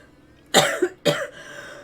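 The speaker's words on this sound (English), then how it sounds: "I haven't coughed like at all until now." A person who has been recovering from a cough lets out two harsh, loud coughs close by, the second following half a second after the first, with quiet between them.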